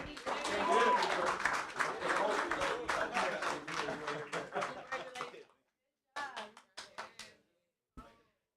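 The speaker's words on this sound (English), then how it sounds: "Clap it up for Paul again." An audience at a live talk event claps for Paul, a few seconds of crowd applause with voices mixed in, then fading into scattered, separate claps with brief pauses between them.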